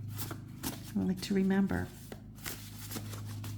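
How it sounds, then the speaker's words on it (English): A somewhat awkward deck of cards shuffled in sections, with soft riffling bursts and taps spread across the moment while a voice speaks briefly over it. "This is a little bit of an awkward deck to shuffle, but it does shuffle well."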